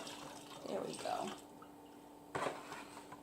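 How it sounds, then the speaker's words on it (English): Homemade liquid soap mixture poured out of an overfilled foaming soap dispenser bottle, giving two or three short, soft wet splashes separated by quiet gaps. "I don't want to waste this, so I'll just pour out a little bit."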